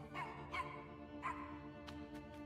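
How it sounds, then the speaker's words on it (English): Fox cubs barking in the video game Endling, three high, short yips spaced out over a steady tonal music bed, followed by a few quieter clicks. "You foxes bark."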